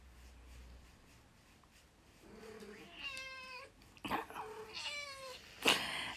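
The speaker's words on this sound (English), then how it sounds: "the cat's here now" A house cat meows several times, short rising cries spaced about a second apart, close but fairly quiet in a calm indoor room with a few soft knocks.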